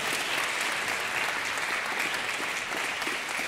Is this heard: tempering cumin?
no